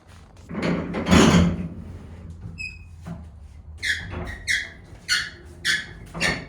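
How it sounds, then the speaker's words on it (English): A squeaky wheel on a sliding barn door from a pole barn gives several short, high squeals with thumps and rumbles between them, close and fairly loud, with no talking. "Squeaky wheel?"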